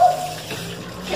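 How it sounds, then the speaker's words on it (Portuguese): Water runs steadily from a tap as a finger is rinsed under it, a continuous close splashing with faint voices in the background. "Lava o dedo."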